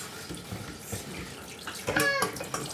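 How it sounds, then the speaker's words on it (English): Rice is washed under running water, with the faint splash and trickle of a tap followed by a brief louder swish and slosh near the end. "And now we're going to wash the rice."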